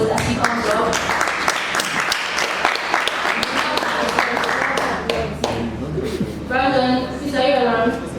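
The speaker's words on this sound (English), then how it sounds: "So can we give a round of applause as he comes up?" An audience at a tech community event gives a round of applause as a speaker comes up, crisp individual claps building into steady clapping, then fading as speech resumes near the end.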